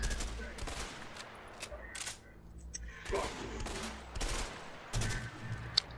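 M16 rifle fire in the game A Way Out: several separate bursts of rapid shots, fairly quiet, with short pauses between bursts and game ambience underneath.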